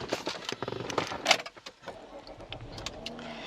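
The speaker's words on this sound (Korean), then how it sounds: "시동 부드럽게 잘 걸리고 있고요." A Renault Samsung SM7 (All New SM7) sedan with about 106,670 km is started from inside the cabin, with brief clicks and key jingle, then a short crank as the engine catches and settles into a quiet idle, with no talk.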